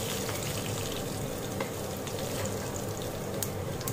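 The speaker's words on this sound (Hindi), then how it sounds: "तेल गरम हो जाने पर सबसे पहले हम जीरा डालेंगे।" Cumin seeds frying in hot oil for kachori stuffing, giving a dense, continuous crackling sizzle that stays steady and close throughout, with no talking.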